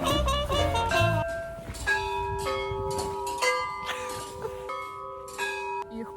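Church bells ringing in Nizhny Novgorod, several bells struck in an irregular peal with long sustained ringing tones overlapping, heard close beneath the belfry.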